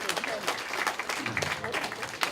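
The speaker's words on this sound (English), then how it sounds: "let's give her a big round of applause" An audience at a community center opening claps for a speaker, with scattered, uneven handclaps and crowd murmur at moderate volume throughout.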